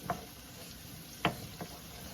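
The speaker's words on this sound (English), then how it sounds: "I'm going to saute those down till their onions are translucent and the peppers are soft" Onions and peppers sauté in a pan with a continuous soft sizzle, broken by a few brief clacks of a utensil stirring them.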